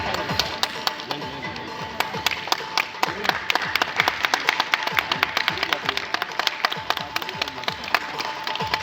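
Steady, dense clapping from a large audience, sustained and lively throughout with many hands striking at once.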